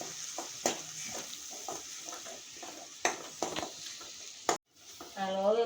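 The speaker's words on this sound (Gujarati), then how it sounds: "હાલો હવે મરચાં નાખી" Green chillies, with onions already in the pan, sizzle in hot oil while a utensil stirs and scrapes against the metal pan in repeated sharp strokes; a voice speaks briefly at the end.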